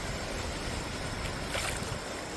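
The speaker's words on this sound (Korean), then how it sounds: "자, 파도 밀려온다, 저기." Sea waves rolling onto a rocky island shore at night during a low-tide shellfish forage, a continuous broad roar of surf with a brief louder wash partway through, heard alone.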